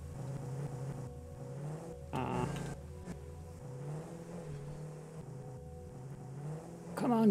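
A car engine in Satisfactory drones steadily at a low pitch, rising briefly in a short surge of revving and again at the end, heard alone at moderate level.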